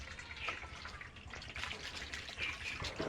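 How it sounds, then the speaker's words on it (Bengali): Fresh chhana, homemade paneer curds, being rinsed in cold water: a soft, continuous trickle and splash of running water with small gurgles, faint and close. "ছানাটা একটু ঠান্ডা জলে ধুয়ে নেব"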